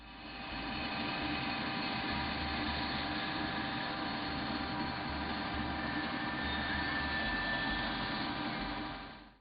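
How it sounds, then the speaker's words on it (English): A bandsaw runs steadily while cutting out a traced knife handle blank from timber, a loud continuous whine and hum holding level throughout without pause. "back to the bandsaw to cut it out"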